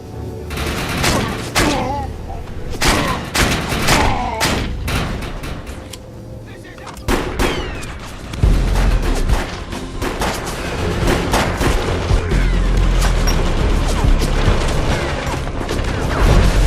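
Dense, loud shotgun blasts and other weapons fire in the sci-fi shooter Defiance, with a reactor overloading nearby, rapid repeated booms over rumbling mechanical noise and occasional voices underneath.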